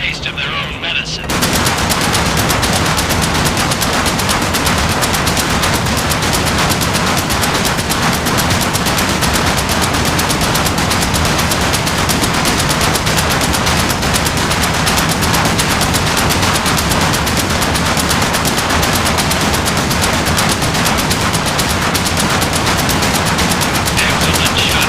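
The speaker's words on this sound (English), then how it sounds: "Lieutenant, get on the flak cannon." A flak cannon firing at Stukas in Medal of Honor VR, dense relentless automatic gunfire that starts after a brief quiet moment and stays loud and unbroken to the end.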